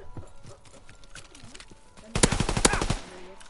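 A rapid burst of automatic gunfire from a shooter video game lasts about a second, loud and close, after a stretch of quieter, clattering in-game sounds.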